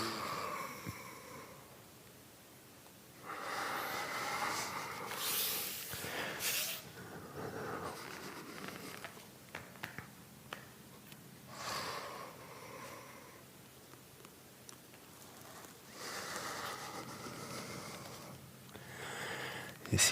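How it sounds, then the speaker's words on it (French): Slow, deep breathing during a guided yoga session, heard close and quiet: long airy inhales and exhales come in a few spaced cycles with near-silent gaps between them. "Continuez à chercher une grande longueur dans vos respirations."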